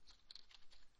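A few quick computer-keyboard keystrokes, faint and close, in a short irregular burst with no talking.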